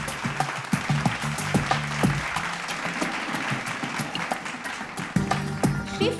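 Audience at an awards ceremony honouring visionaries of Bihar applauds steadily for several seconds, dense clapping with a few sharper claps, while a speaker's voice breaks through near the start and end.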